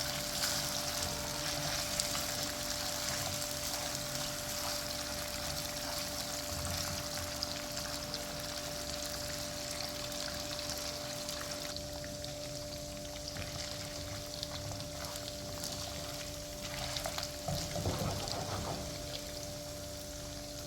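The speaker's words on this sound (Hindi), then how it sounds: "यहाँ पर मैंने तमाम मटन इसमें ऐड कर दिया है। अभी हम इसको बहुत ही तरीके के साथ फ्राई कर लेंगे" Mutton pieces fry in a hot pan for an Afghani gravy, giving a steady, close, dense sizzle that hisses without pause throughout, with a few brief louder crackles near the end and no voices.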